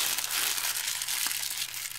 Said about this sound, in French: j'ai décidé de lui donner un effet en chiffonnant simplement un petit morceau de plastique